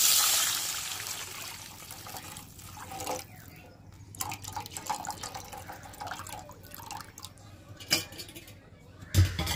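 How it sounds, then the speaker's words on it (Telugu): Saffron-coloured water trickles and drips steadily into a pan over low background noise, with a few louder splashes and clinks near the end. "అలానే కేసరి వాటర్ పోస్తాను."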